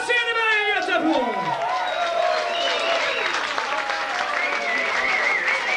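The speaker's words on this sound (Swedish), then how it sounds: "och motta applåderna" Concert audience applauding a guitarist on stage in Gothenburg during a show, steady dense clapping and crowd noise throughout, with other sounds and voices mixed over it.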